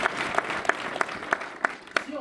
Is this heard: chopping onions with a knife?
no